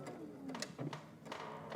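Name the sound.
sewing machine stitching along a puffer jacket seam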